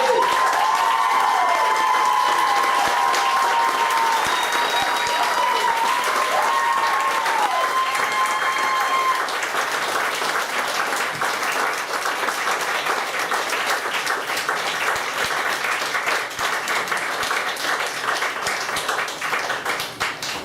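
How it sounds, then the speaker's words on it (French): A wedding crowd applauds warmly and continuously after the couple's vows, with scattered cheers and whistles rising over the clapping early on before it settles into steady applause. "On les applaudit."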